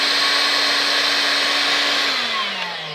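A Solo cordless vacuum cleaner with a brush roll runs on a nearly flat battery, giving a loud, steady high whine that begins to sag and lower in pitch toward the end, close by with no speech.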